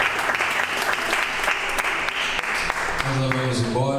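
Church congregation applauding loudly and steadily after a prayer in a Japanese-Brazilian revival service, dense clapping filling the room throughout, with a voice speaking over it near the end.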